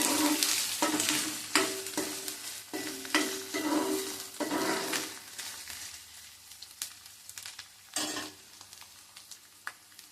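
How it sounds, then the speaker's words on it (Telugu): Ridge gourd pieces go into a hot pan with curry leaves, and a brisk sizzle comes with scraping stirs and knocks that fade to a quieter hiss toward the end. No one speaks. "ఇవి కొద్దిగా ప్రయాణిస్తూ బీరక ముక్కలు వేస్తున్నాం"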